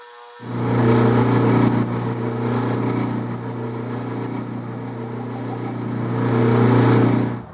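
A metal lathe machining 303 stainless steel, running as a steady loud motor hum. A rapid regular pulsing chatter from the cut comes in for several seconds and then fades back to a smooth drone.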